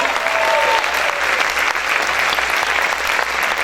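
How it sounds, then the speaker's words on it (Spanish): A church congregation applauds loudly during a worship service, a dense, sustained wash of clapping hands filling the room from start to finish with no pause. "¿Cuántos pueden aplaudir fuerte al Señor?"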